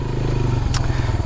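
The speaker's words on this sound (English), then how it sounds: "the moment you breathe on the starter, this thing cranks up." An old four-wheeler ATV engine cranks and catches, settling into a loud, steady, throbbing idle close by, with a brief sharp clatter partway through.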